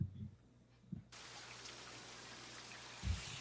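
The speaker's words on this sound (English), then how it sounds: "Oh, wait, I have rain." Recorded rain plays as a steady, soft hiss of falling drops after a brief quieter opening with low thumps, continuing evenly to the end.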